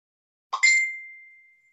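A phone notification ding goes off once, a bright clear chime that rings out and fades slowly over about a second, with silence before it and no talk.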